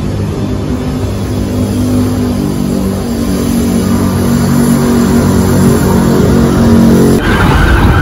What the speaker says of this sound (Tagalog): Ayan po, may duman po na jeep.